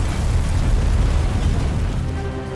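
A deep, sustained rumbling boom from a ship exploding, loud and continuous with heavy low-end roar, slowly tapering near the end.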